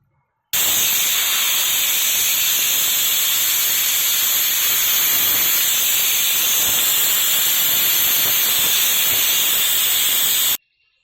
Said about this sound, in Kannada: 2-3 ವಿಸಲ್ ಆಗಿಬಿಟ್ರೆ